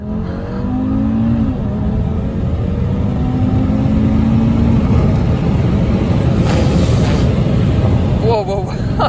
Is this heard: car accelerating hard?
yes